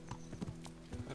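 A horse's hooves clip-clop on the ground in Kingdom Come: Deliverance, a few quick, fairly faint, close strikes in an uneven rhythm over a brief moment.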